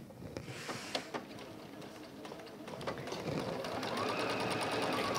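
A sewing machine stitches fabric, its rapid needle clatter building from intermittent bursts into a steady mechanical run, close and fairly quiet.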